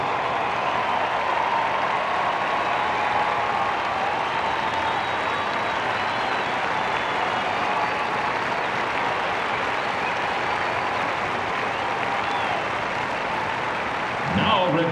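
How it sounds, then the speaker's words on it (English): Sustained applause from an audience at a Celebrate America show honoring members of the armed forces, a dense even wash of clapping running for about fifteen seconds with some crowd noise mixed in. "of applause for all those who serve or are currently serving in our armed forces."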